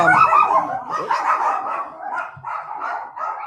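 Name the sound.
dogs barking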